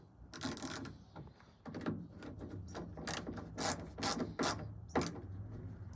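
Ratchet working on a Kawasaki Z1 motorcycle differential breather fitting, with quiet close-up bursts of rapid clicking repeated in short strokes and small gaps between them.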